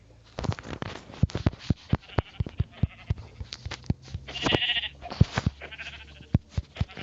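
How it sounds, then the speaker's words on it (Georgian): Sheep bleat among repeated sharp knocks and taps, with one clear drawn-out bleat in the middle rising above the irregular clatter, close and fairly loud. "ცხვარი კიდე ცხვარი რა კარგია"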